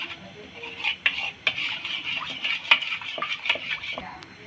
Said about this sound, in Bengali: সবগুলো উপকরণ দিয়ে আমি একটা চামচের সাহায্যে ভালো করে মিশিয়ে নিচ্ছি